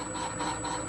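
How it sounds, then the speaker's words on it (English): A drill bit cutting off-centre in a metal lathe, working a part for a Standard cream separator engine: a steady, grinding, rasping scrape that runs continuously and close by, with no speech. "as you can hear, that drill bit doesn't drill"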